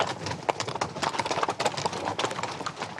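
Several horses' hooves clop steadily on a steep, rocky mountain trail above a lake, an irregular close rhythm of hoof strikes carrying riders up a final climb, with no talking.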